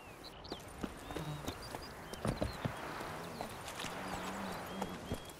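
Horse hooves clip-clop at a steady walking rhythm in The Witcher 3 video game, the even steps sitting under faint ambient game sounds with no voices.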